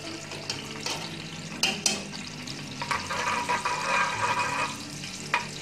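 Cumin seeds crackling in hot oil for a beef karahi, a steady soft sizzle with scattered light pops and clicks, fairly close and moderate in level, no talking.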